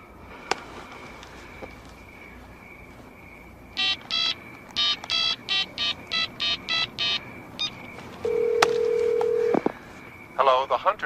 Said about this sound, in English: Dial him. Come on. Dial him up.